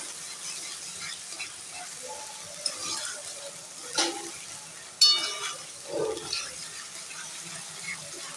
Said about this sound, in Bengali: জিরে ফোড়ন তেজপাতা এক চামচ আদা আর দু চামচ জিরে মশলাটা কষে দিচ্ছি ভালোভাবে